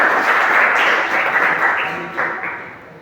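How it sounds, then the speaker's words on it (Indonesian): Classroom applause for a student group in an electrical engineering course, a short burst of clapping from a small audience that swells and then tapers off, with some background voices mixed in. "Kita tepuk tangan untuk kelompok"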